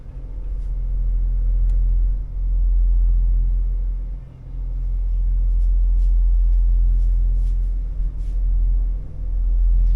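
Engine of a Nordhavn N71 boat idling with a deep steady rumble that briefly dips several times as it is bumped in and out of gear, with faint clicks above.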